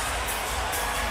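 Crowd at a boxing arena cheering for Manny Pacquiao after his fight with Bradley, a broad continuous roar of many voices with rising swells.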